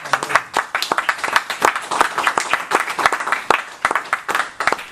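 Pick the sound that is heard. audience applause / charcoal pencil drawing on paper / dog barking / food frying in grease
audience applause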